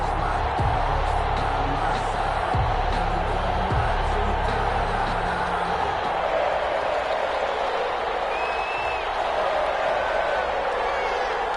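Stadium crowd at Allegiant Stadium in Las Vegas before an NFL game between the Chicago Bears and the Las Vegas Raiders, a steady loud roar of many voices filling the space, with occasional low thumps and faint whistles.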